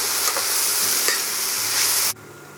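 Vegetables cook on high heat in a pan for vegan black bean enchiladas, with a loud, continuous sizzle and scraping stirs that cut off abruptly near the end.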